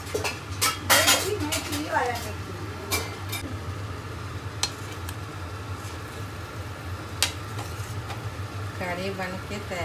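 Kadhi simmers in a pot while a metal spoon clanks and scrapes against it in irregular bursts, over a low steady hum, with speech in the background.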